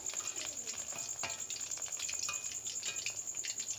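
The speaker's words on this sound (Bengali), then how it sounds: "একদম মিডিয়াম আঁচে আপনারা ভেজে নেবেন।" Kakrol (spiny gourd) chops fry in oil over medium heat, a steady close crackle and sizzle with small pops, and no one speaking.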